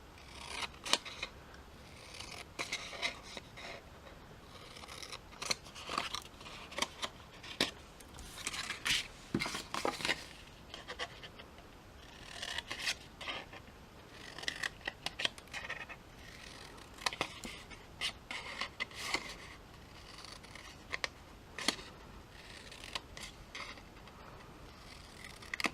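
Shears snip through scored paper box edges in a steady run of short, crisp cuts, close and fairly quiet, with small rustles of paper between snips and no voices.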